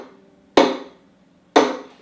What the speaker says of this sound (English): really smack the fingers against the string